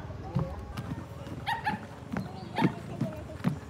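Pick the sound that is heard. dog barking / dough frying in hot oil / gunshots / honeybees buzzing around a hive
dog barking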